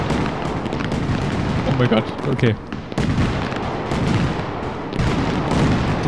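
Fireworks going off in the Fireworks Simulator game: a dense run of booming bursts and crackling blasts fills the whole stretch, with someone talking excitedly over it.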